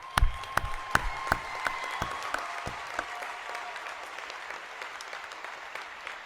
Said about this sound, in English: How about a round of applause for all those help?